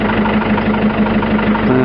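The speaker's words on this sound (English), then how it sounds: "So I'll turn the engine off now." An Isuzu 4JX1 diesel engine idles steadily and loudly up close, a continuous low rumbling drone with an even throb and no pauses.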